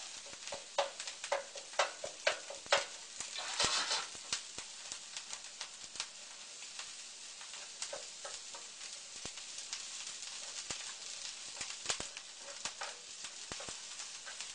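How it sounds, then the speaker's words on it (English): Spicy stir-fry sauce for a wild rice dish fries in a pan with a soft, constant sizzle, broken by quiet scraping clicks as a utensil stirs it in uneven strokes; no voices. "So we just want to stir that around for a couple minutes"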